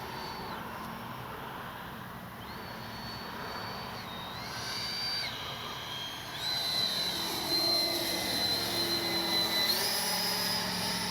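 A Freewing 80mm F-22 RC jet with AS3X+ and a nose wheel gyro flies overhead, its electric ducted fan giving a sustained whooshing whine that rises and falls in pitch with throttle and grows louder midway.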